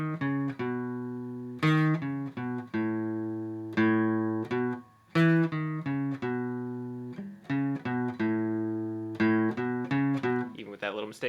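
Guitar playing the intro riff of a song, a steady, clean stream of plucked single notes in a repeating melodic pattern with one brief pause midway, close and alone.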